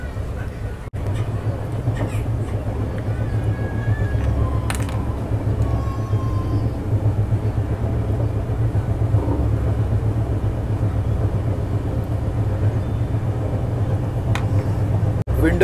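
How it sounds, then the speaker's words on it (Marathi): Steady low rumble and hum inside an air-conditioned double-decker express train running from Mumbai to Surat, continuous throughout with occasional faint clicks, under a person talking nearby. "आपण आपल्या AC डबल डेकरमध्ये बसलो आहे."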